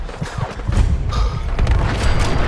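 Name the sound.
explosion in the video game Fallout 4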